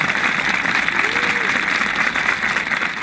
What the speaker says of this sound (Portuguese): para promover esse momento de aplauso para os profissionais de enfermagem